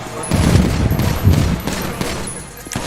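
Rapid bursts of gunfire crackle in a shooting game, uneven volleys of shots close and loud across a few seconds with a faint high tone above.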